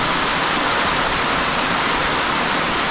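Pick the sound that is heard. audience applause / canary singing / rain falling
rain falling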